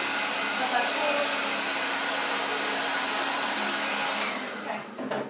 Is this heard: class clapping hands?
no